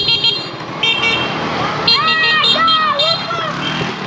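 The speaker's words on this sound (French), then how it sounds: "bon ça klaxonne" Vehicle horns honk repeatedly along a busy roadside in Vietnam, several short toots and longer blasts overlapping with traffic and motorbike noise, fairly close and loud.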